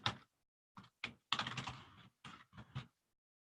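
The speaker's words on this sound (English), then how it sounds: "I'll type it in the chat" Quick bursts of keystrokes on a computer keyboard, close and fairly quiet, tapping out short clusters of letters separated by brief pauses, with no voices.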